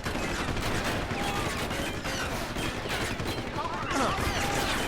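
Enemies below open fire in the Deus Ex: Human Revolution video game, a dense continuous clatter of gunshots and ricochets filling the whole stretch, with speech mixed in underneath.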